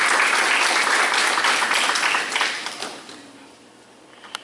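Audience applause at a lecture during a 2019 gathering, loud and full at first, then thinning and fading over a couple of seconds to a few scattered late claps.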